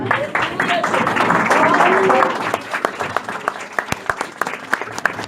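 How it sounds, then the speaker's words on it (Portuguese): A church congregation claps and cheers in praise, a dense wash of applause that thins after a couple of seconds into scattered individual claps, with a voice singing or calling over the start. "Você pode se sentar, aplaudindo ao Senhor, glorificando."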